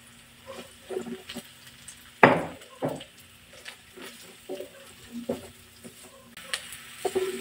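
Red and white onions saute in a pan over sizzling oil, stirred with several sharp scraping knocks and scattered clinks of the utensil against the pan.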